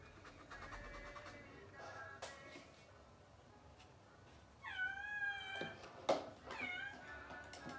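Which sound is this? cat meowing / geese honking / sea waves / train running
cat meowing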